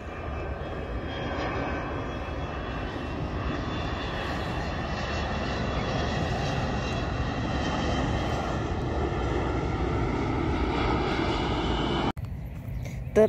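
An airplane flies over a park near the beach, its engine a steady, loud roar that holds throughout before cutting off abruptly near the end.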